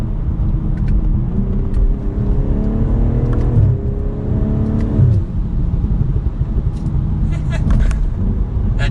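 A 2022 BMW M440i xDrive Gran Coupe's exhaust rumbles deeply, rising and falling in pitch, with sharp scattered pops crackling over the low drone.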